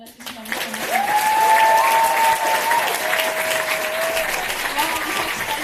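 Big, sustained audience applause for a folk dance performance swells up after a brief opening and keeps going strong, with a voice speaking over the clapping and a thin tonal sound gliding through.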